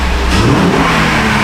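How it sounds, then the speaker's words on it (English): A Honda car engine with VTEC revs loudly and close, its pitch climbing through a sustained roar with no talk over it. "We can hear that VTEC."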